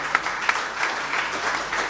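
An audience at a Hindi poetry recital (kavi sammelan) bursts into applause, dense clapping from a crowd, steady and fairly loud throughout with no voices over it.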